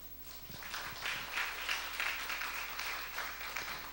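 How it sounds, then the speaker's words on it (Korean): Church congregation applauding during a sermon, a sustained wash of many hands clapping at moderate distance, fairly steady and somewhat muffled, with no voices over it. "하나님께 영광 돌리는 박수인 걸 믿겠어요"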